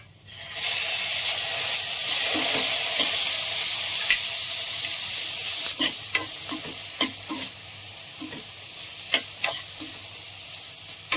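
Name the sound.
onion and tomato frying and being stirred in a pan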